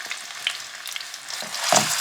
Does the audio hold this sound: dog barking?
no